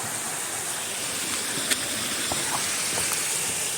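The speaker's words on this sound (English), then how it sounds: "Nice little waterfall up there." A small waterfall on the Appalachian Trail makes a steady broadband rush and hiss from a short distance, constant throughout, with a few faint clicks and no speech.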